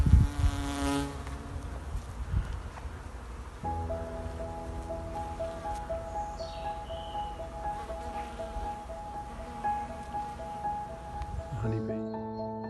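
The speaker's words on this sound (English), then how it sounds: "Honeybee." Honeybees buzzing as they gather nectar and spread pollen outdoors on a walk, a steady drone with shifting tonal hums running throughout, close and moderately loud, with faint rustling and occasional voices in the background.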